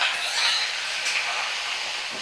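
Spinach and mixed vegetables sizzle in a pan over a medium flame, a steady close hiss with a light crackle that holds evenly throughout, with no talking.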